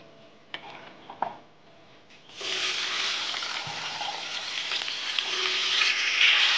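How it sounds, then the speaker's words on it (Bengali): Potatoes dropped into hot oil set off a steady, bright sizzle that starts abruptly after a few faint clicks and keeps hissing loudly and evenly to the end. "তেলটা গরম হয়ে গেলে আলু দিয়ে দিয়ে দেবো।"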